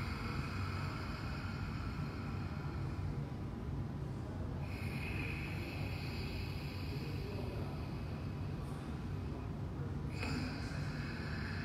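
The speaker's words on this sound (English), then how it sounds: "Exhale through both the nostril again." Steady, faint airy rush of breath pushed out through the nose, continuous and even with slight swells, no talking.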